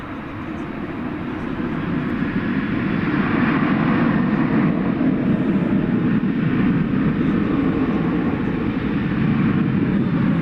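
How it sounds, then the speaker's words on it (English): An American Airlines airliner at night at DFW Airport gives off a steady, broad engine roar that swells slightly and holds without a break, with no talk over it. "So this is the American flight to Colorado Springs"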